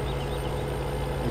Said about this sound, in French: Oh, quelqu'un qui fait l'aspirateur.